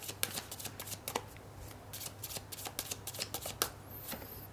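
Tarot cards are shuffled close up in quick repeated riffles and slides, a crisp papery flutter of rapid bursts with short pauses, no voice over it.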